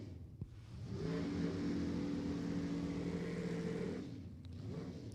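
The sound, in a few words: supercharged 306 cubic inch drag racing car engine revving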